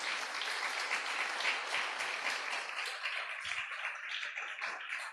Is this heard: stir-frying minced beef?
no